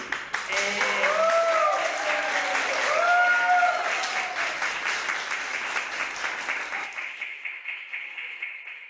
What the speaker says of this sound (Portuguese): Eu ia pedir mesmo essa salva de palmas